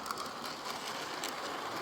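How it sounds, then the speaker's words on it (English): A Bachmann HO gauge model train runs along its track through a Christmas village layout, giving a steady, even mechanical clicking and rattle that holds at one level for the whole stretch. "here comes the train."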